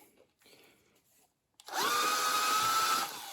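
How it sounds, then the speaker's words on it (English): A power drill bores into a broken bolt on a 2005 Jeep Grand Cherokee being stripped for a junkyard Hemi swap, its loud steady whine starting abruptly after a quiet moment and running close-up to the end. "That's just drilling in farther and farther."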